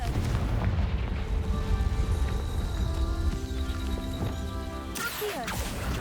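Confringo blasting spell cast in the Hogwarts Legacy video game: a steady wash of game sound with sustained musical tones, ending in a sharp burst of fiery blast energy near the close.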